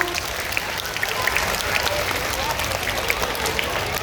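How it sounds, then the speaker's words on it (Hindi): Applause from students and teachers at a school Hindi Diwas program, welcoming classmates who are about to recite Gita verses. The clapping is a steady, dense patter that lasts the whole moment, with faint voices mixed in. "ताली बजा के स्वागत करिए अपने मित्रों का।"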